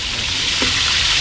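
Food frying in a pan at an outdoor family cook-up in the Philippines, a steady close sizzle with a faint watery hiss running through the whole moment.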